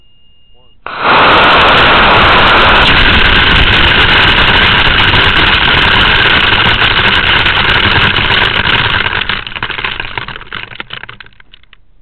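A model rocket E12-4 engine with the ejection charge removed fires on a small rocket car, bursting in abruptly as a loud, steady roaring hiss that holds for about eight seconds before tapering off.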